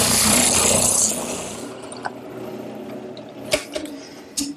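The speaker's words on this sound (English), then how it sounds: "Now I'll sand them smooth." A wooden adjustment bar's rounded ends are sanded smooth in a woodworking shop, a loud, hissing rasp for about a second that fades out and leaves a few faint clicks and knocks.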